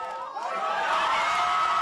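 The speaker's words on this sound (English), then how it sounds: "when O'Brien enters the starting gate, there's a deafening cheer" A large crowd at a ski event roars as skier O'Brien enters the starting gate, a dense, sustained cheer with high whoops rising out of the din and swelling louder through the moment.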